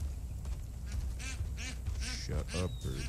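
A duck quacks repeatedly in Far Cry 5, a run of nasal calls over steady game background noise, with a voice speaking at the same time.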